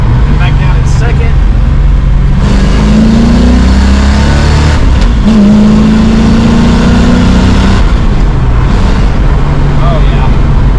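A car fitted with a TKX manual transmission and Holley Sniper 2 EFI accelerates on a test drive, its engine droning loud and steady as revs climb in rising sweeps, heard from inside the cabin under a man's speech.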